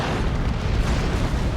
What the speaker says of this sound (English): Doing a lot of damage with that Venom Cannon